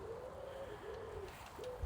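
Wood pigeons coo softly in a few repeated, rhythmic phrases, faint and somewhat distant against a quiet background.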